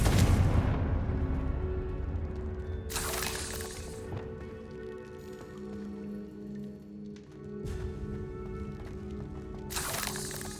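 Confringo fire spell detonating in Hogwarts Legacy: several loud, rough bursts a few seconds apart, each one sharp and crackling, over a steady tonal background.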